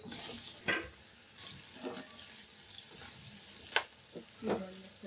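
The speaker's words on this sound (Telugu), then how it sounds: "ఈ కోసి పెట్టుకున్న బీరకాయ ముక్కలు వేసి నూనెలో ఫ్రై చేసుకుంటాం" Ridge gourd pieces frying in oil in a pot, a soft sizzle under intermittent stirring scrapes and clicks, fairly quiet and close.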